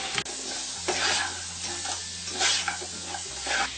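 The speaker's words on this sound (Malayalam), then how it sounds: "ഇനി ഇതിലേക്ക് പച്ചമുളക് ക്രഷ് ചെയ്തതിട്ട് ഇളക്കി കൊടുക്കാം" Crushed green chillies being stirred into a sizzling pan, a steady hiss of frying with repeated scraping stir strokes every second or so, close and fairly loud, with no voices.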